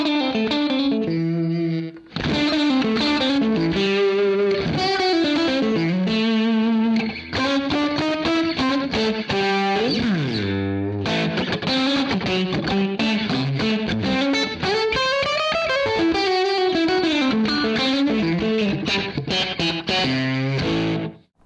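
Ernie Ball Music Man Jason Richardson electric guitar on its middle pickup with a 20 dB boost plays a loud, continuous distorted lead line full of fast runs and sustained bent notes with effects, with no talking.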